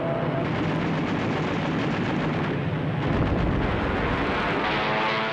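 American warplanes and Japanese Zero fighters clash in the 1942 Battle of Midway, with engines roaring and bursts of gunfire and blasts rolling together in a loud, dense wash.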